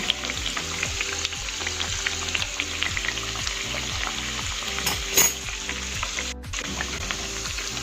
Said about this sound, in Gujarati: મિત્રો આપણા વડા તળાઈ ગયા